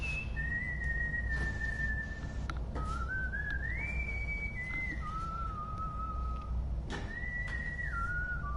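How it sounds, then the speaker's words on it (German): A character in Far Cry 5 whistling an atonal, wandering tune, a clear, close whistle of long held notes that slide and step in pitch, broken by a few short clicks and knocks. "das mit dem atonal Pfeifen, das hast du ja gut drauf."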